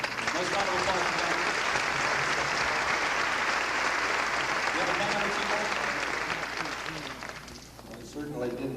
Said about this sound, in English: Nice round of applause for Don.